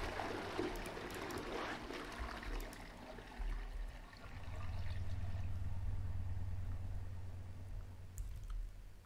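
A toilet flushing in a horror video game: a rushing, trickling gush of water that swells and settles into a steady low drain, moderately close and with no talk over it.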